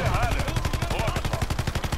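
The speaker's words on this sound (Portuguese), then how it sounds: "Ah, um tiro, ó. Um tiro." Rapid gunfire from Call of Duty: dense bursts of machine-gun-like shots repeating in a fast, even rhythm, loud and continuous, with faint voices underneath.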